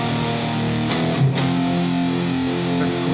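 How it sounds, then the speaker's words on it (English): A sustained, heavily distorted electric guitar chord rings out with a thick, buzzing tone, loud and steady throughout with no voices. "If you crank up the distortion on your amp"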